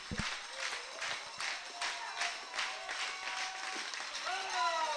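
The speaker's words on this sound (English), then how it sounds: "This crowd clapping." Baseball fans at a playoff game clapping in a steady, scattered rhythm throughout, with crowd noise, shouts and background chatter mixed in, moderately distant.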